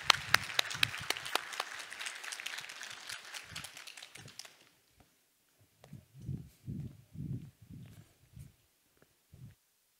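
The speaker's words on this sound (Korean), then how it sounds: "우리 선교사님을 따뜻한 박수로 맞겠습니다" Applause greets a missionary coming onto a church stage: dense clapping fills the first half and stops around the middle, followed by scattered low thumps like footsteps.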